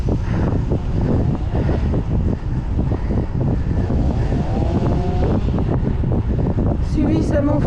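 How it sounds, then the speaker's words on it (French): Strong wind rushes past a rider cycling along a road, a loud continuous roar buffeting the microphone, with a voice briefly audible near the end. "il m'embête ce vent là"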